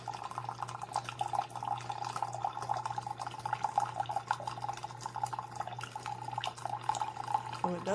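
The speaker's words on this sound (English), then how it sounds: "And it should fill the cup right up because that's how much water I put in." A CHULUX slim single-serve K-pod coffee maker brews into a cup, giving a steady faint trickle and drip of water over a low constant machine hum.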